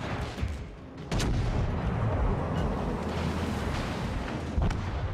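Heavy gunfire from a warship broadside in World of Warships: Legends lands as a sudden deep boom, then a sustained loud rumbling roar of shelling and impacts with smaller thuds.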